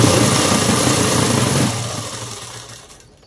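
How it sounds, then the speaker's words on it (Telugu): A sewing machine stitches the lining of a dress, whirring with a steady mechanical hum up close, then slowing and winding down to near silence at the end. "ఇలా కుట్టు వేసేసుకున్న తర్వాత ఇంకొకటి దానికి కూడా లైనింగ్ అనేది ఇలా కుట్టు వేసేసుకోవాలండి"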